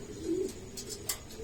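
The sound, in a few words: racing pigeon cooing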